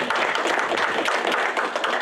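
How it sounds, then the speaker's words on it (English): Sustained applause from an audience at a university research symposium launch, dense and steady clapping throughout, fairly loud and close, with no speech over it. "Let us applaud her, colleagues"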